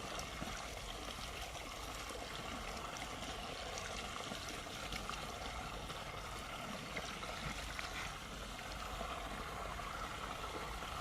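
Water runs steadily into a rubber balloon being filled, making a constant, faint, hissing trickle with no talking.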